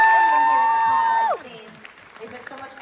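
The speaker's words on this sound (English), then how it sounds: "Give them a round of applause." Audience applause at a Comic Con Liverpool Cobra Kai Q&A breaks out as a sustained tone cuts off, a spread of clapping from the crowd at moderate level.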